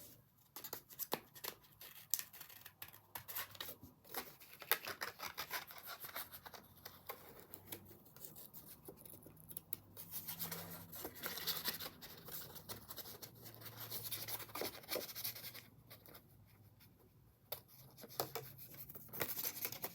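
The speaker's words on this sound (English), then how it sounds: "So I thought I might just cut this out." Small scissors snip and scrape through stamped cardstock at close range, with irregular quiet cuts and rustling paper handling over a few seconds, no talking.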